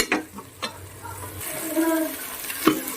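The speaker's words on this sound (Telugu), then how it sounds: "ఆయిల్ హీట్ అయిన తర్వాత పచ్చిమిర్చి ఆనియన్ పేస్ట్ వేసుకోవాలి ఈ ఆనియన్ పేస్ట్ బాగా వేయించుకోవాలండి" Onion paste and green chilies frying in hot oil, heard as a soft, uneven sizzle broken by stirring scrapes and a few knocks, close and moderately quiet.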